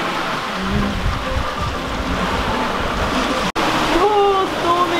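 A stormy rain squall hits a sailboat at sea on an Atlantic crossing: loud, dense roar of rain and wind rushing over the boat, with voices calling out over the storm near the end.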